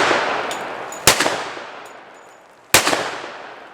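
Two sharp pistol shots from a S&W M&P 2.0 10mm pistol firing .45 ACP rounds outdoors, about a second and a half apart, each loud crack followed by a long fading echo.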